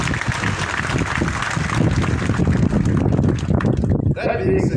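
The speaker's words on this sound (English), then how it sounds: "A round of applause." Applause from a crowd at a ceremonial leadership handover at City Airport in Lusaka, a loud, dense clapping wash mixed with outdoor rumble, giving way near the end to a brief voice and sharper scattered sounds.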